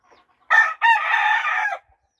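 A game chicken rooster crows once on a farm, a short opening note followed by a long, loud, sustained call, heard close and clear with no other sounds.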